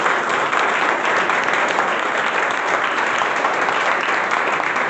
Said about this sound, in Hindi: राम कुमार जी के लिए तालियां बजाइए।